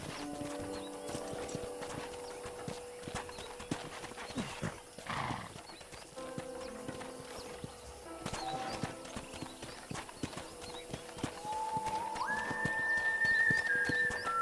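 Horse hooves clip-clop at a steady trot in the Red Dead Redemption video game, moderately loud under background music, with a whinny and a rising tone near the end.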